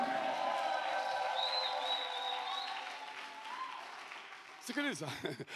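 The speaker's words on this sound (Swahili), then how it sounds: "Pigie Yesu makofi na vigegele shangwe." A church congregation claps and cheers, with a fairly faint, diffuse crowd sound that is joined by a burst of wavering, high ululating cries toward the end.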